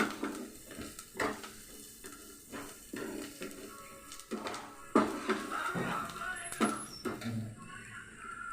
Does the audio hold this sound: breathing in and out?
no